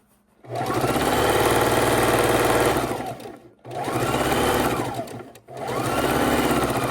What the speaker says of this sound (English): We are sewing on our last border.